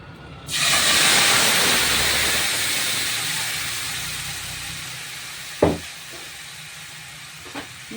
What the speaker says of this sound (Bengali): ম্যারিনেট করে রাখার পরে এবারে আমি এটাকে কড়াইয়ের মধ্যে ছেড়ে দেবো